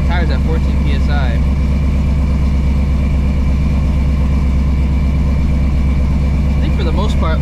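Ford Mustang GTD with an 815 hp engine idling steadily, a deep continuous low rumble close by while people talk over it.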